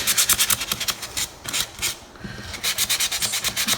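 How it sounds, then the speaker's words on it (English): Sandpaper rubs across a cured resin piece with underwater turtles in rapid, even back-and-forth strokes, close and steady, with a brief pause midway before the scraping rhythm resumes. "just try the sandpaper, might be better. Can you rub that?"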